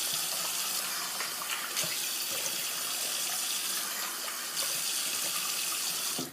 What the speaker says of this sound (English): So I'm just going to rinse my face off here.